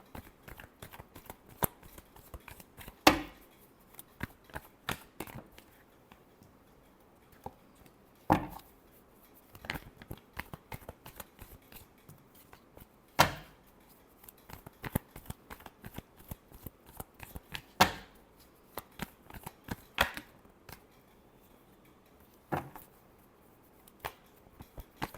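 Tarot cards shuffled by hand at close range, steady soft flicking and riffling with sharper slaps every few seconds as the deck is squared and cut, continuing for about twenty-five seconds in a quiet room with no voices.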